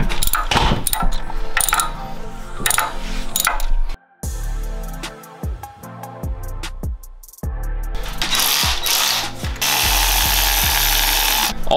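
Ratchet and power-tool work on a Mazda Miata's header bolts, with quick clicking bursts and whirring spins, a few sharp knocks, then a steady bright hiss near the end, close and loud.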